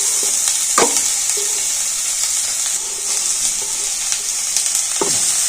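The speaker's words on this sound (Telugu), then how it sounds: "క్యారెట్ అన్ని సన్నగా తరిగి వేయించుకోవాలి" Finely chopped onion, capsicum and carrot sizzle in a little oil with green chillies and asafoetida for vermicelli upma, a steady close frying hiss broken by occasional scrapes of a stirring spoon.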